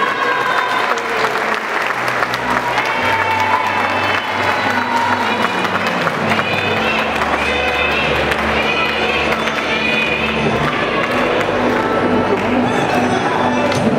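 A crowd at the Señorita Feria de las Constituciones pageant in Zitácuaro, 2012, gives a contestant sustained loud applause with scattered cheers, dense and continuous throughout, with a voice and music sounding beneath it.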